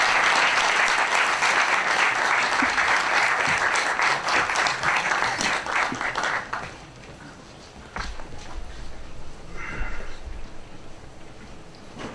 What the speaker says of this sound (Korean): 여러분들 큰 박수로 한번 환영해 주시면 감사하겠습니다